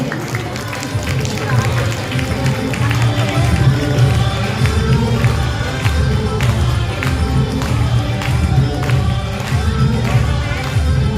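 A festival crowd at a Maha Shivratri and silver jubilee celebration cheers and claps in a loud, sustained wash of noise, with talk mixed in.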